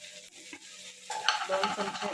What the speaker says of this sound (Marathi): कांदाही चांगला ब्राऊन कलरचा होईपर्यंत भाजून घेऊया